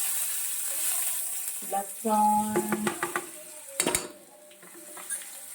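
Cumin, asafoetida, curry leaves and garlic hit hot oil with a steady close sizzle, accompanied by several clinks and scrapes of a spoon against the pan.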